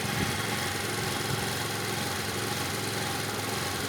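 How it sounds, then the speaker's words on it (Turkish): A Falcon Nitro 50 scooter engine runs steadily after an oil change, a dense continuous close hum with an even idle pulse throughout. "şu an motor yağı çekiyor"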